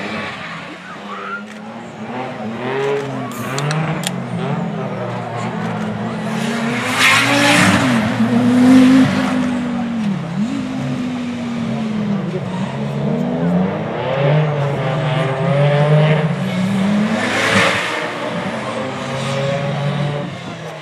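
An Audi Quattro race car with over 500 brake horsepower revs hard and accelerates for about twenty seconds, its engine note rising and falling loudly, with tyres squealing at intervals.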